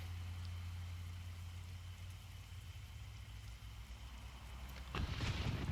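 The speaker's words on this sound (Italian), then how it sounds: "Senti, tuoni, lampi, fulmini e saette" Steady thunderstorm rain pours across a truck driving scene in Euro Truck Simulator 2, with a low engine drone beneath. Near the end a louder rumble of thunder swells up.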